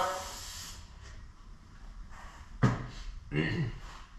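A short aerosol hiss sputters at the start, followed by a few brief spray bursts and light handling clicks, close by, while working on load levelling shocks of a Durango.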